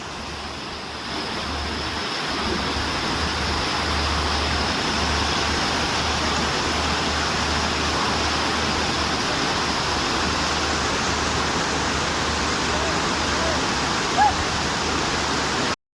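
A loud, continuous roar of water rushing through the open gates of Lower Suktel Dam, Bolangir, steady and unbroken from start to finish.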